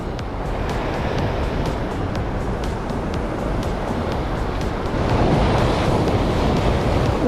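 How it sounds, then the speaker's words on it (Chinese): Big ocean waves surge and crash against a rocky fishing shore in strong wind during Typhoon Surigae, a constant loud roar that swells near the end, with no talk. "哇，好大的浪！"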